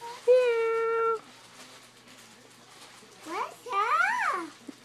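A cat meows twice at close range, first a long steady sustained cry, then after a pause a series of wavering, rising and falling meows, with a quiet room behind it.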